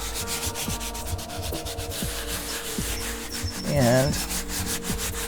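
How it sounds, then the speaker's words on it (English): Rubbing a few drops of liquid on a surface until it turns sticky during screen printing, a steady dry scrubbing sound with repeated strokes and a brief louder squeak near the end. "And then you rub it until it gets sticky."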